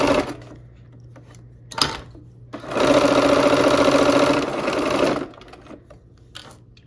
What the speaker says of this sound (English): Let's sew this row together, these rows.